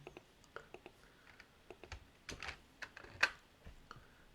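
Quiet, close keyboard typing on a computer, irregular clusters of soft key taps with a slightly louder burst midway, low in level against a faint room background.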